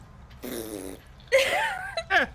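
A voice imitates fart noises with several short, buzzing, lip-blown bursts, each rising and falling in pitch, close and fairly loud.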